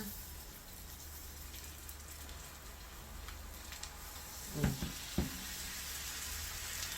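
Kimchi pancake batter frying in a hot pan over low heat, a soft, steady sizzle throughout with a couple of brief spatula taps near the end.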